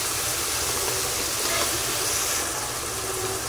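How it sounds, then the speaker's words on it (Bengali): Chopped onion fries in a pan as part of a small mixed-fish curry, giving a steady, loud hiss and sizzle that continues without a break. "এবার এই সবগুলোকে ভালোভাবে ভেজে নেব।"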